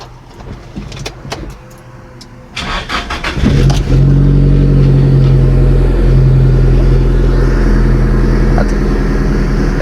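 A 1988 Nissan Hardbody pickup with a swapped SR20DET engine cranks briefly and catches, revs up loudly up close, then settles into a steady, rough idle.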